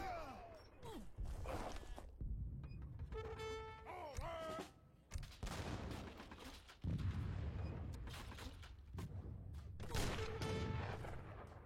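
Heavy cannon fire in a strategy video game, with repeated booming blasts and thuds layered among whooshes and tonal game effects, dense and continuous throughout; no voice.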